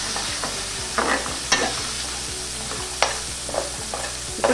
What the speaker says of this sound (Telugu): ఇందులోనే పన్నీర్ ముక్కలు కూడా వేసుకొని మిక్స్ చేసుకోవాలి.